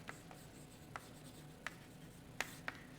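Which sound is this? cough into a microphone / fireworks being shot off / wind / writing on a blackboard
writing on a blackboard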